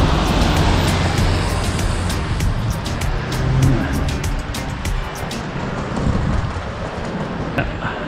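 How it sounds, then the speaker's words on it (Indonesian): A car drives past on a Geneva street at night, its engine and tyre noise swelling and fading amid street traffic, with a person talking over it. "nah itu ada mobil jalan kan"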